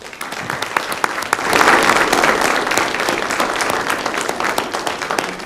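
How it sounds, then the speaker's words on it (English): An audience at a city council meeting in Westland gives a sustained round of applause, with loud, dense clapping that swells and holds steady for several seconds. "Why don't you give them a round of applause?"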